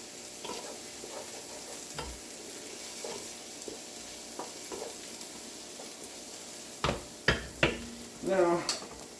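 Trinity vegetables being sautéed in a pot for chicken pot pie, with a soft, steady sizzle and a few louder stirring scrapes and clanks toward the end.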